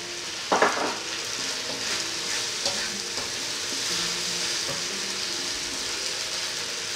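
Pork stir-frying with banana peppers in a pan, a continuous bright sizzle with a sharp clatter as ingredients drop in and light scraping stirs throughout.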